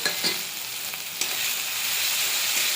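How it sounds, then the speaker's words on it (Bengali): Steady, dense sizzling of spices frying in hot oil, with a couple of brief stirring scrapes partway through; close and continuous, no voices. "মশলাগুলো ভালো করে ভাজা ভাজা হয়ে গেছে"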